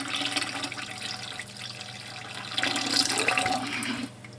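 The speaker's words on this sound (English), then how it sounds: "pour it as fast as I can without risk of splashing" Homemade coconut oil detergent pours steadily into a pot, a continuous close liquid splashing and trickling that swells briefly near the end before stopping abruptly.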